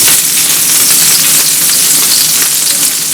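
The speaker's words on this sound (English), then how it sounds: "We're gonna let this butter melt." Butter melts and sizzles loudly in a hot pan while cooking steak pizzaiola. The hiss is dense and continuous and heard up close, with no voices over it.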